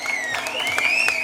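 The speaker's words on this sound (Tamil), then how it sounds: "அத்தனை ஆண்களுக்கும் ஒரு பெரிய கைத்தட்டல் கொடுத்தலாம் இந்த நேரத்துல" Steady audience clapping fills the hall at a Tamil pattimandram debate show, with a thin whistle-like tone running over the continuous applause.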